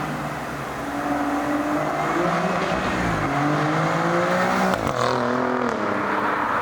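A 2022 Alfa Romeo Giulia Quadrifoglio accelerates hard on a gravel road, its engine note climbing through rising harmonics, dropping briefly at gear changes and then climbing again, loud and steady inside the cabin, with tire and gravel noise beneath.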